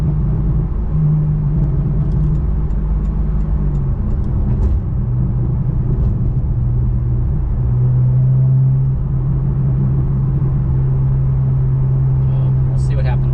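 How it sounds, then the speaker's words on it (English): A Porsche 911 of the 991 generation with a PDK transmission drives along, its engine a steady low drone and road rumble from inside the cabin, with slight shifts in pitch as it goes. "But the car makes a wonderful sound."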